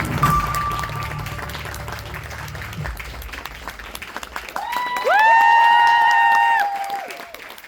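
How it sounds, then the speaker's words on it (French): Applause and cheering from the audience at a cosplay contest during a prize ceremony, a steady crowd clapping swell that continues for several seconds beneath a loud electronic jingle which rises toward the end. "Donc, sous vos applaudissements"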